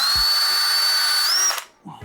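A power drill drives screws into a Kreg jig, giving one sustained, loud, close whine that stops abruptly near the end, followed by faint handling noise.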